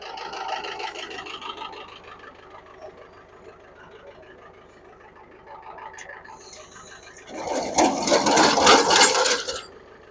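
Tractor running in gear while lifting a Lilliston rolling cultivator, a steady low mechanical rumble with faint rattling that swells into a louder, harsher clanking surge near the end.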